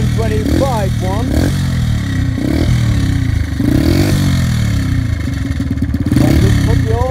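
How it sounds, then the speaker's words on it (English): A small 125cc speedway motorcycle engine revs loud and close, rising and falling in repeated throttle blips with a raspy, clattering tone, while someone talks over it. "This young lady, Jenny, would like to have a go on a little speedway bike"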